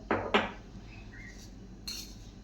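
A metal spoon clinks against a bowl while mixing bread pizza topping with chili flakes, oregano and salt. Two quick, close clinks come in succession, then a softer one follows, with no speech.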